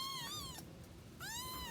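Kittens meowing close by, two drawn-out, high, wavering meows separated by a short pause, clear over a faint indoor background.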